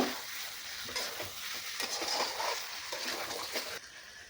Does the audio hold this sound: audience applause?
no